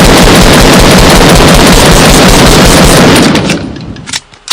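Fortnite gunfire, a loud dense burst of rapid automatic shots lasting about three seconds before cutting off, leaving a few scattered quieter pops.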